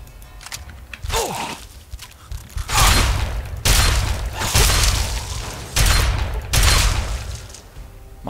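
Shotgun blasts from the Fallout 3 video game, four or five loud booming shots spaced about a second apart, each with a sharp crack and a short decaying tail, over faint background game noise.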